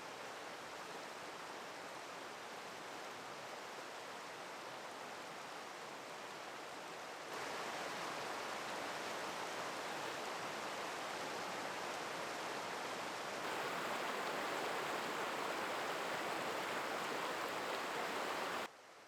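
River rushing through the Yellowstone backcountry, a steady broadband wash of flowing water, continuous and fairly close, with no voices.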